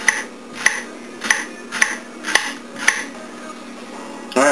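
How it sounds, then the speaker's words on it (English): Knife chopping a leek thin on a cutting board, seven evenly spaced crisp taps about half a second apart, close and clear with no talk, then a brief louder clatter at the end. "I'm going to chop that up thin"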